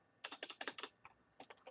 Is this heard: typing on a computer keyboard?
yes